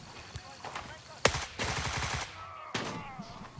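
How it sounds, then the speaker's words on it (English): Quick, sharp bursts of rifle fire in the tactical shooter Gray Zone Warfare crack out in short volleys separated by brief pauses, with faint talk underneath. "Quick shots, then move left or right, peek and repeat."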